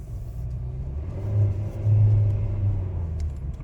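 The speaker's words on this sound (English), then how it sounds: "The engine is loud if you don't have any music on" Engine of a 2025 Nissan Versa rumbling while driving: a steady low drone from inside the cabin that swells slightly as it pulls, with no one talking.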